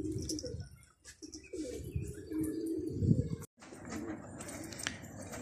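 Pigeons coo in low, rolling calls through most of the stretch, with occasional chirps and a brief wing flutter, recorded close by in a coop where the birds had been fed coriander.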